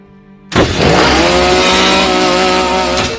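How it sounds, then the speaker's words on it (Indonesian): A chainsaw in a film scene jolts to life after a half-second hush, then holds a loud, harsh, sustained motor whine for several seconds with a slight waver in pitch. "Tiba-tiba mesin gergaji menyala dan hampir mencelakai dirinya sendiri dan temannya yang ada di bawah."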